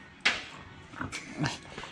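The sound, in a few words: dog whimpering and barking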